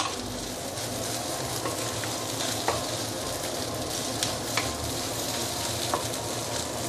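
Cooked rice being stir-fried in a hot pan for egg fried rice with whitebait fish: a constant close sizzle and crackle, with scraping stirs and a few sharp utensil clinks against the pan.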